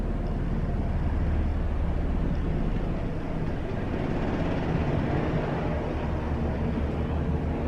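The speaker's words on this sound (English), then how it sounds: "So now there's a helicopter." A helicopter passes overhead, a loud, continuous low rumble and roar that fills the whole clip, heard from indoors and steady throughout.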